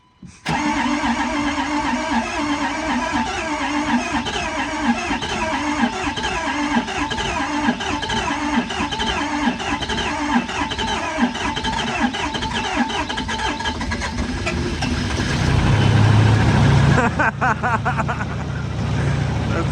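A Ford F350 pickup with the 6.4 diesel engine cranks in a long, rhythmic churn, then catches and settles into a loud, steady running rumble close by, with no talk over it.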